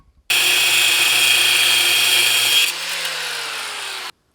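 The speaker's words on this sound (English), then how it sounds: "we're going to have to take the saw and cut that off real quick so that we've got room to drill" A power saw cuts off a bolt on a Jeep spring plate in one continuous shrill grinding burst of about four seconds. The pitch drops partway through as the blade bites, then the sound stops abruptly.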